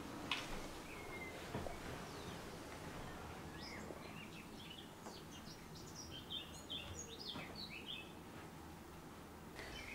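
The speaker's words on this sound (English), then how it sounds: "Birds flying in and out." Small birds chirp and tweet intermittently inside a derelict, abandoned contractor's house, faint and scattered calls over a low, rumbling room ambience with occasional soft footsteps.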